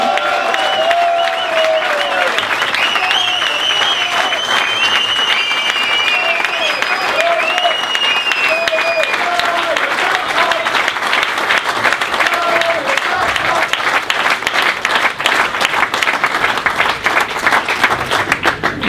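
Audience applause at an ice hockey press conference after an EHC Freiburg versus IceFighters Leipzig game, sustained dense clapping from a crowd throughout, with a voice talking over it.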